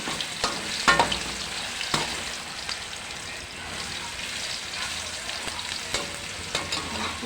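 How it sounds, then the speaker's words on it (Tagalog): Mixed vegetables sautéing in a pan for ginisang gulay, a dense steady sizzle broken by occasional scraping stirs, close and continuous, with no talking. "tayo na ay magsisimula na magluto ng gulay"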